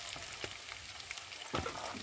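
Potatoes and onions fry in a pan with a soft, steady sizzle, broken by a couple of brief clatters from stirring; no talking.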